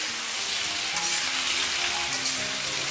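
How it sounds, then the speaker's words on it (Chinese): Winter melon stir-fried over high heat in smoking oil with star anise and cinnamon, a loud dense sizzle running throughout with constant tossing and scraping in the wok. "这里我们一定要开大火，不停地给它翻炒，把冬瓜里面的水分给它煸炒出来"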